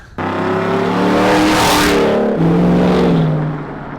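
A loud Chevy Silverado race truck engine roars and revs hard through its exhaust, pitch climbing, dipping briefly, then surging again before easing off.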